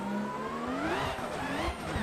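Fredric Aasbo's 2021 Toyota Supra drift car in Assetto Corsa, a loud close engine whine that climbs and falls as the revs change.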